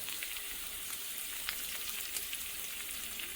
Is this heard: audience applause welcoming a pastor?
no